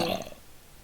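Minecraft zombie groan played by a note block, one short low throaty grunt that fades out within a second.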